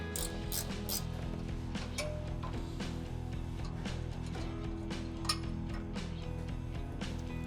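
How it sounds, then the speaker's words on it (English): Wrench clicking and clinking as 10mm bolts come off a 2025 Toyota 4Runner, repeated sharp metallic ticks over a steady low hum with no talking. "So I am gonna use a wrench to get these off."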